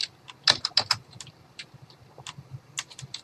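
An address is typed on a computer keyboard: bursts of crisp, close key clicks, denser at first and then scattered singly and in small clusters, with no voices.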